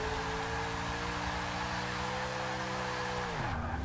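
A supercharged 7-liter Hemi rear-wheel-drive car in Forza Motorsport 6 holds a steady, high engine drone with tire noise while drifting, then the pitch drops sharply near the end as revs fall.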